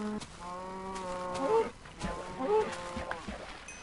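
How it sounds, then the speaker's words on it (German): Cows mooing in the video game Minecraft, two drawn-out, tonal lows following close one after the other over a soft continuous background, with no talk over them. "noch ganz, ganz fix die Kühe da gemetzelt und dann zurück zum Haus."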